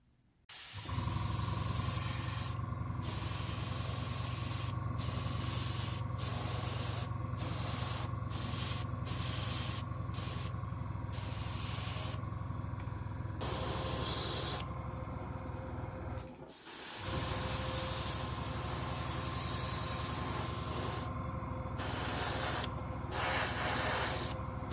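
An airbrush hisses in repeated short bursts with brief pauses between them, spraying paint onto a Battlestar Galactica model, steady and close, with no talking.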